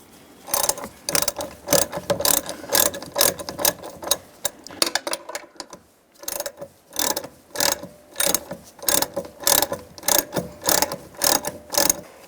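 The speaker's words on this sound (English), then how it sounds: "And then tighten the 10mm down as well." A hand ratchet tightens a 10mm bolt on a 2007-13 Chevy Avalanche door hinge, giving bursts of sharp, rapid clicking strokes with short pauses between them, close up and with no talking.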